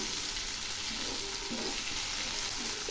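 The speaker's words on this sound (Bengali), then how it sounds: "এখন আমি এর মধ্যে দিচ্ছি কয়েকটা চেরা কাঁচা লঙ্কা। এগুলি কষানো প্রায় হয়ে আসছে।" Potatoes, spices and slit green chillies sauté in hot oil for a Bengali fish curry, a steady, loud, dense sizzle that holds evenly throughout with no voices.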